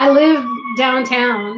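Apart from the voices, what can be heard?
emergency vehicle sirens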